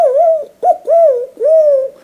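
A man imitating pigeons cooing, with four close, loud, hooting coos with gliding pitch, each about half a second, separated by short pauses.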